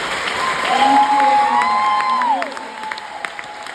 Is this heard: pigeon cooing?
no